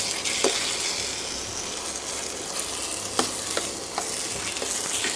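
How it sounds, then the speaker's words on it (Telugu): Peanuts going into a pan of upma and being stirred, a continuous close frying hiss with a few sharp clicks and scrapes as the spoon moves. "ఇప్పుడు పల్లీలు వేసుకుంటాను."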